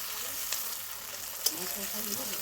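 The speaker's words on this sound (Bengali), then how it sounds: "প্রথমে পেঁয়াজ আর রসুনটাকে ভালো করে ভেজে নেব, তারপরে দিয়ে দেবো টমেটোটা।" Chopped tomato fries in a pan with onion and garlic, giving a steady close sizzling hiss with a couple of brief sharper crackles and faint voices in the background.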